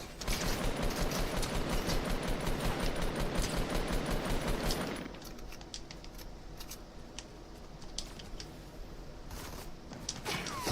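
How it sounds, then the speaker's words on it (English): Rapid automatic gunfire in Fortnite as two players shoot, a dense loud burst of rattling shots for about five seconds, then sparser, quieter scattered shots and clicks continuing to the end. "2 people shooting at me?"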